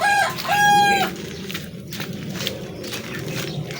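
Backyard chickens at feeding time give a loud, near rooster-like crow at the start, followed by steady clucking and scratching sounds from the flock.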